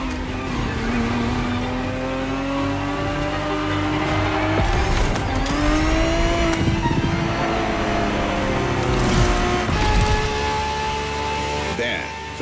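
A 1970s Ferrari 365 GTB4 racing engine in The Crew Motorfest roars continuously, its pitch climbing and dropping through gear changes and revs, while a voice talks over the engine noise.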